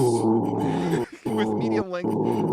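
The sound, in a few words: person imitating angry growling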